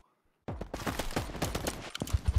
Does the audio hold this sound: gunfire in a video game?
yes